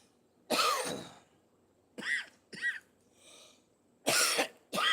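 Several harsh coughs close by, in short separated bursts, with quiet breaths between.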